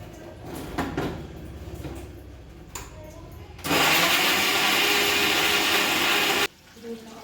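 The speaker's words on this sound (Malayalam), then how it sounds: "മിക്സിയിൽ അടിച്ചിട്ട് ഒഴിക്കാം" A mixer grinder blends batter of maida and three Palayamkodan bananas, starting with a few handling clicks and then running as a loud, steady, close whir for about three seconds before cutting off abruptly.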